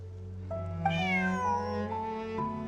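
A cat meows in a video game, one long drawn-out call with a rising then falling pitch, heard close and clear over a steady background hum with no talking.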